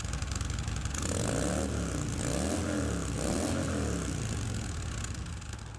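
A Harley-Davidson motorcycle on its stock exhaust system runs nearby with a loud, lumpy engine rumble, rising and falling through a few revs over a steady idle.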